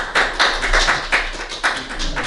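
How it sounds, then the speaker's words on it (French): An audience claps loudly together at an evening gathering, a dense burst of hand claps with a few stronger swells, all close and without voices. "on applaudit bien fort"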